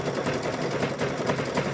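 A Brother Luminaire 2 sewing machine stitches binding on a small quilted mug rug, giving off a steady, even whir that runs without pause and with no voices.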